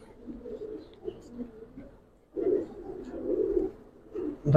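Pigeons cooing in a loft, low soft rolling coos in two close bursts separated by a brief quiet gap.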